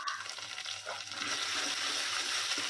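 Onion, chili and ginger-garlic paste frying in oil, giving a steady, close, bright sizzle that holds evenly for a few seconds with no talking.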